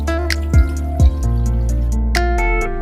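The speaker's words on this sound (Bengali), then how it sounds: "এবার জল দিচ্ছে" Water poured into a pan of cooking hilsa fish curry, with a few distinct drips and splashes over a steady sizzling bed of sound.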